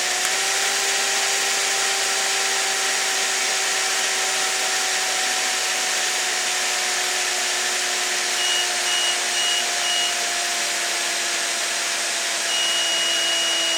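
An electric drill runs steadily on battery power from a Tripp-Lite UPS converted to supercapacitors, giving a loud continuous motor whine that slowly drops in pitch, with faint intermittent beeping joining later.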